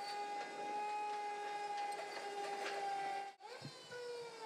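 A giant mech exoskeleton standing up, giving off a steady mechanical whine with sustained tonal hum and a sudden drop before the motor sound resumes.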